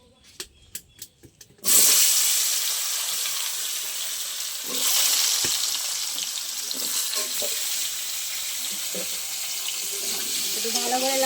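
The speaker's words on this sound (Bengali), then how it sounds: "মাছ ভাজার তেলে আমি আলু আর কুমড়ো দিয়ে দেবো" Potato and pumpkin pieces go into oil left from frying fish: a few light knocks, then a sudden loud burst of sizzling that settles into a steady hiss, with stirring scrapes and crackles. No voices are heard.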